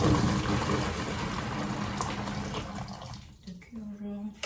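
Freshly boiled hot water pours steadily into a container for household cleaning, a continuous rushing splash that fills most of the clip before thinning out near the end.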